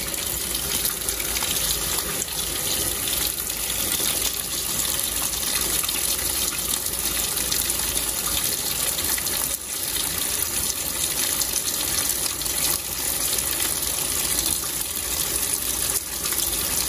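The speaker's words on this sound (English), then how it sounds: "Because it's a deep water setting, you should feel, see the water line fill up to almost the top." A Maytag commercial grade top-load washer on a deep water setting fills with a steady, loud rush of pouring water that carries on unbroken, with no one speaking.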